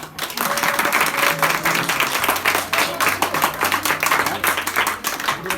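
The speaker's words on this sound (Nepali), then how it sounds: "खोइ ताली बजाएको" A crowd applauds at a Guru Purnima puja gathering in Kathmandu, dense sustained clapping close by for several seconds with faint voices underneath.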